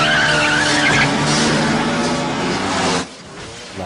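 Street racers' cars skid on a road at night, a loud, sustained tire squeal with engine roar that holds for about three seconds, then cuts off abruptly into a quiet rumble.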